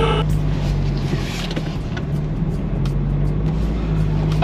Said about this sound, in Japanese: クラッチをスッと離したらもうスッと前に進むって